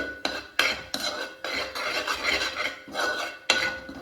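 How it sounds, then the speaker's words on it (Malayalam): Spoon stirring chicken with turmeric powder in a pan for Kerala chicken varattiyathu, giving a run of close, repeated scraping strokes and clinks with short pauses between, no talk. "എന്നിട്ട് വീണ്ടും ഒന്ന് ഇളക്കി കൊടുക്കാം"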